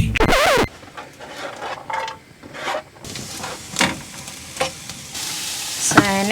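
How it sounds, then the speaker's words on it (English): Vegetables frying in a pan with a little oil, a steady sizzle under bursts of stirring and scraping, close by, with a brief voice at the start and the end. "we're going to heat up our fry pan with just a bit of oil"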